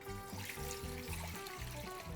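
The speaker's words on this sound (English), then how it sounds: "So for the brine, first we'll add the water." Water pours steadily into a container as the first step of a turkey brine, a continuous close trickle and splash with rising tonal gurgles as the vessel fills, heard on its own.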